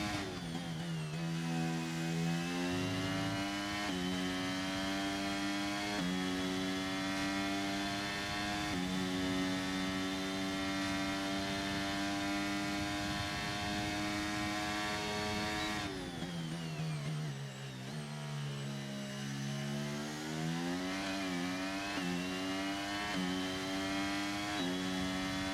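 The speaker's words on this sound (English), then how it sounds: "And you hear nothing but that Red Bull engine." A high-pitched Red Bull racing engine whines steadily at Jeddah with shifting pitch, rising and falling as it passes through gears, loud and continuous without voices.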